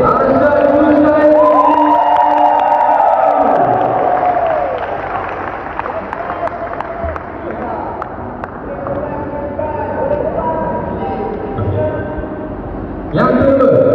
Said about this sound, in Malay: Ramai-ramai tepuk tangan boleh?